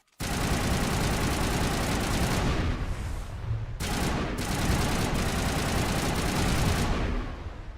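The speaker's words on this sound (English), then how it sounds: "Why is the gunfire so loud?" Continuous loud bursts of rapid gunfire from the video game Mass Effect, dense and sustained with a brief pause midway, no talking.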